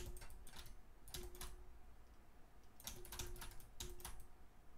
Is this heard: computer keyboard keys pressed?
yes